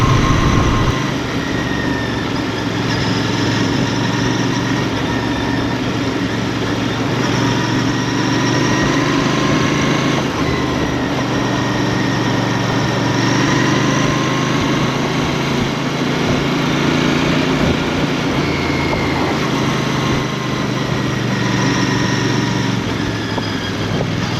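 A Royal Enfield Bear motorcycle engine runs steadily and loudly throughout a test ride in third and fourth gear, its continuous drone holding near and unbroken with no talk over it.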